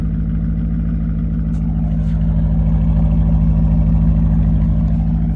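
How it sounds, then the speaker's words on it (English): A high-mileage, neglected BMW E39 M5 engine and exhaust rumble loudly and steadily close by, a deep throbbing idle that swells slightly midway. "So exhaust sounds pretty good."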